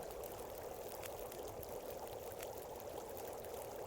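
Water boils on a stove in The Long Dark as a steady, soft bubbling and rushing wash that continues evenly with no voices.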